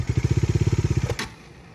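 Bajaj Dominar 400 motorcycle with twin exhaust mufflers, a close, loud, rhythmic thumping engine pulse that beats steadily for about a second before cutting off, leaving a brief clatter.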